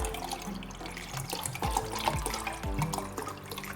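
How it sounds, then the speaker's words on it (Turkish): Cold water pours steadily into a container while homemade lemonade is being mixed, a continuous close splashing flow with a few gurgling surges and no talk. "soğuk suyumu ilave ediyorum"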